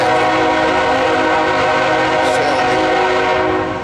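CSX loaded coal train on the Charlotte Sub SF Line, a loud steady roar of the train passing close with a sustained horn-like tone throughout, and no talk over it.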